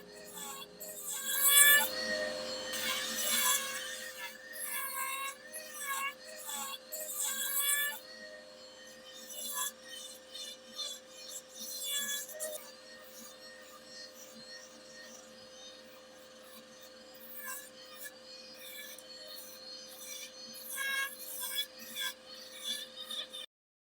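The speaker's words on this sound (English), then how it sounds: "I'm going to go ahead and get this part kind of smoothed out with this heavier duty bit." A power carver fitted with a heavier duty bit whines and grinds into soft wood while carving a tree spirit, its high-pitched, varying buzz rising and falling in bursts at close range.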